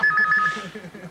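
A telephone rings with a pulsed electronic double tone for about half a second at the start, then a voice talks over the line as a prank call begins.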